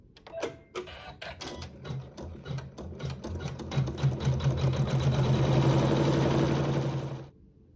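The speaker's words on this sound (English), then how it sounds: "Using a neutral thread, again, I will go ahead and sew my seam" A sewing machine stitches a seam through quilt fabric with neutral thread, a steady rapid mechanical whir and clatter that builds and holds for several seconds, close and loud, then stops abruptly.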